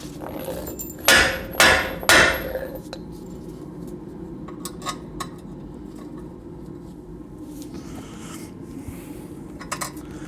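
Three sharp, loud hammer blows ring out in quick succession as something is driven in, followed by quieter scattered taps and scraping against a steady low background hum.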